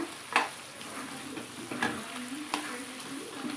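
Country chicken pieces frying in a pan, a steady close sizzle broken by a few sharp scraping stirs of a spoon against the metal, with no voices.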